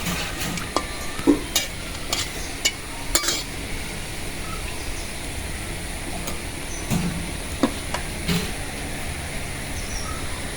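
Bay leaf and dried chili frying in hot oil, a steady low sizzle with occasional stirring clinks and scrapes from a pan, no talking.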